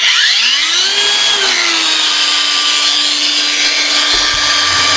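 An ALLSOME PT037-N cordless angle grinder runs at its first speed setting, a loud, steady high-pitched whine that ramps up quickly at the start and then holds constant, close to the listener.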